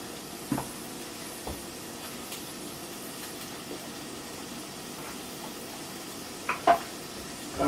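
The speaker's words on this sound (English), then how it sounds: "Start to do that sizzle." Kale cooking in a frying pan gives off a steady, even sizzle, with a few sharper pops and clicks scattered through the hiss.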